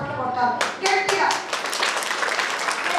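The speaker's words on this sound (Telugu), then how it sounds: "వాళ్ళకు కూడా మనం చప్పట్లు కొట్టాలి గట్టిగా" An audience at a yoga competition claps loudly in a sharp burst of close, rapid hand claps that settles into sustained applause, with some voices mixed in near the start.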